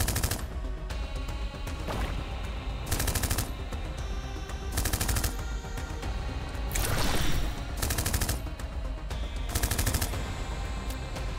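Enemy gunfire in a video game, rapid machine-gun bursts and repeated shots in loud clusters over a steady game background, with no talk.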